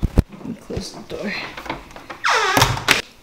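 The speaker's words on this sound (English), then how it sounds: "Let me close the door." A hotel room door closes with a brief dull thunk amid rustling and handling noise, close by, while a person talks.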